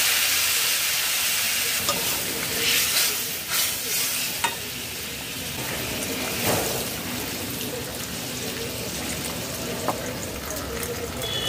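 Vegetables are added to a masala frying in a pan and stirred, a close steady hiss and sizzle with a few scraping knocks and a sharp clack as the vegetables go in, with no talking.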